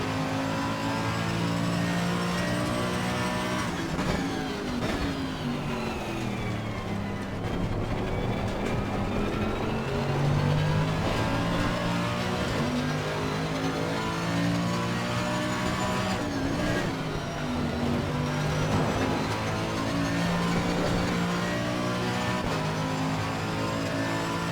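A McLaren race car in Assetto Corsa Competizione roars loudly through long stretches of engine sound, revving up and dropping through gear changes as it races at the Nurburgring.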